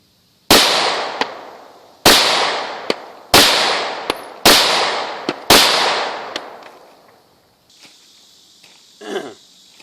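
Five sharp, loud shots from a Walther PPQ pistol fired at a range target, spaced roughly a second apart, each ringing out with a decaying echo, followed by quieter handling noise.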